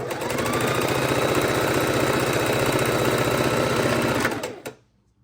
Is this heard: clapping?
no